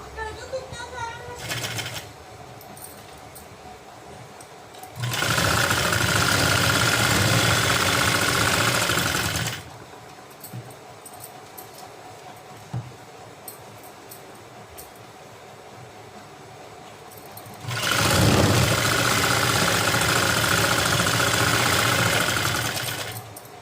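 An electric sewing machine stitches a plazo in two bursts of steady, whirring running, each several seconds long, separated by quieter pauses with handling sounds.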